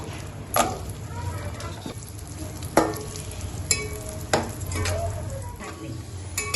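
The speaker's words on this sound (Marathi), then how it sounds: "त्याच तुपात आपण आता काळा मनुका भाजून घेऊया" Black raisins roasting in ghee hiss steadily in a pan, with periodic crisp spoon scrapes and taps against the metal, close by and with no talking.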